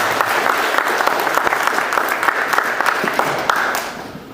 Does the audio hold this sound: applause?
yes